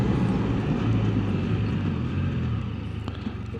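A 2024 Can-Am Spyder RT Limited three-wheeler riding in rain, with steady, loud engine drone and road and wind rush throughout; the engine note shifts near the end as it brakes and downshifts.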